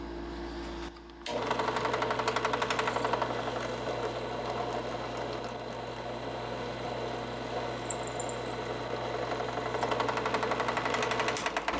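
A drill bit bores through a hidden-tang knife handle in a workshop, a steady, loud mechanical whine with a buzzing rattle that runs continuously after a short start, with no talking.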